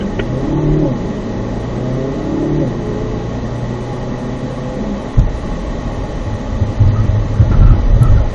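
A car braking hard and swerving left in an avoidance maneuver during a driving exercise, a loud close rumble of engine and road noise with a low droning tone and a sharp jolt midway.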